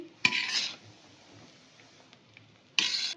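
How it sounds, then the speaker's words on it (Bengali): Spoon clatters against a pan while ghee-coated fried rice is stirred, two sharp bursts of scraping metal at the start and end with quiet between. "তো ঘিটা দিয়ে আমি ভালোভাবে নেড়ে চেড়ে নিয়েছি"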